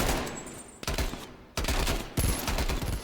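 Rapid automatic gunfire in Call of Duty: Cold War, loud, close bursts separated by brief gaps, with several volleys stacking into dense continuous fire and no talk over it.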